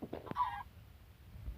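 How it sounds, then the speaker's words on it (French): A chicken in the Minecraft video game gives a short, quiet cluck near the start, followed by near silence with faint low background noise. "Là, il y a une petite poule."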